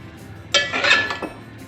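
Minced meat keema with whole garlic and ginger being mixed in a cooking pot: a short burst of metallic scraping and clinking from the spoon against the pot, close by, then quiet.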